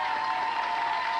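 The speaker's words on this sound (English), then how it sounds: "Give him a big round of applause" Studio audience applauding on a 1994 children's geography game show, a steady dense wash of clapping that holds at even strength throughout the brief moment, with no voices over it.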